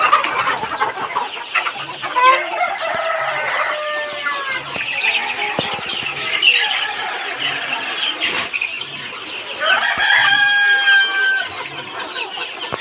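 Chickens and roosters at a poultry farm housing breeding parent stock, with several loud, close crows rising and falling over steady clucking and squawks throughout.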